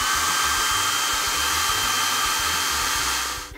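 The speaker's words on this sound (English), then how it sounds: "Now we'll dry your hair." A toy hair dryer drying a doll's hair gives a loud, steady, close whirring hum that runs without a break for several seconds and fades at the end. No one speaks.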